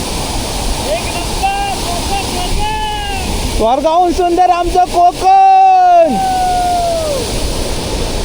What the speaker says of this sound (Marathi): त्या बाजूला तिकडे तो धबधबा पडतोय